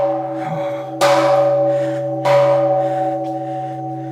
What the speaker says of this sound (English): So we can make wishes, ring the bell 3 times.